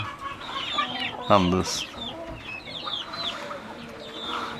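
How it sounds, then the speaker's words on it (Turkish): A hen clucking among wild chickens and chicks, short throaty clucks in a loose rhythm, with a brief louder call near the middle, under a few quiet spoken words. "Şu tavuğumuzun tatliliğini görmüyor musunuz?"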